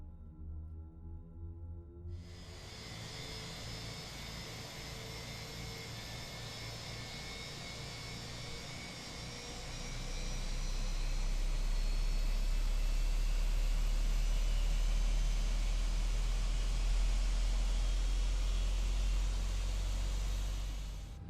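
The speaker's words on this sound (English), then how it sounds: "Let's get the engine started, and we'll go with engine number 1 first." An airliner's number 1 jet engine spools up from start, a broad rushing whine that builds over several seconds and settles into a loud, steady roar heard from the cockpit, with no talking.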